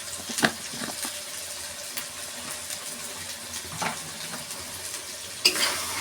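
Spiced chicken with coriander powder and cumin-chili paste stir-fried in a pan, a moderate continuous sizzle broken by a few clinks and scrapes of stirring.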